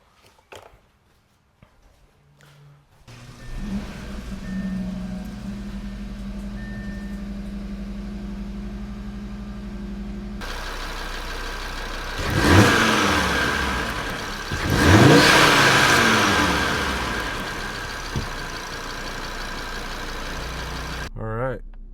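An Audi RS3 with a 440 HP tune and an aftermarket intake mod cranks and starts, settles into a steady idle, then lets out two sharp close revs before dropping back down; a voice speaks briefly.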